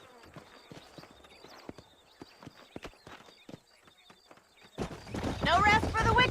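Horse hooves clip-clop at a steady walking rhythm in the Red Dead Redemption video game, out in open country near Armadillo. The hoofbeats are close and moderate at first, then a louder burst of voices and other sounds takes over near the end.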